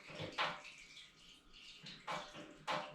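Liquid trickles and splashes as oil drains from a Masterbuilt turkey fryer, faint and close, with a few louder gurgling bursts over a soft continuous flow.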